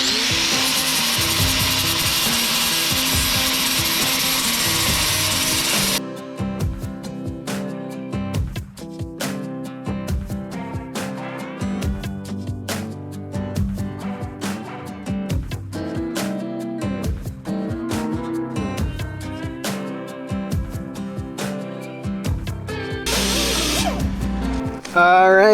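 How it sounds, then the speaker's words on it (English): A welded metal patch being ground down on a cracked truck cab, with an abrasive tool whining and rasping in uneven bursts, stopping and restarting with clanks and handling noises between passes. "we've got that patch all ground down"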